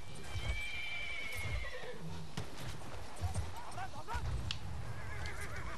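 Horse neighing and clip-clopping hooves in Battlefield 1 on a Sinai desert map, with a drawn-out whinny early on, then a run of steady hoof beats under constant battlefield noise.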